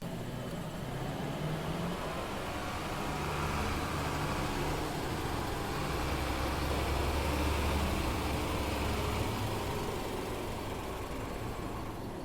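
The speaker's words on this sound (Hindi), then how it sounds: "यहाँ पे एक कार का साउंड मैं पहले ऐड किया" Layered car engine for a Call of Duty Modern Warfare 2019 scene, a steady broadband rumbling drone holding for about twelve seconds, moderately quiet and unchanging, with no talk.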